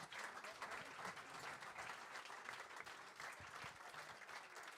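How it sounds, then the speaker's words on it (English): Steady audience applause for the Max Grynchuk Big Band at a live club show, a dense wash of many hands clapping that holds evenly throughout. "Another round of applause."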